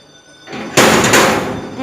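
A door in a home is opened to free a trapped sparrow, a soft sliding rub that builds into one sharp, close thump and rattle, followed by a sustained rushing noise.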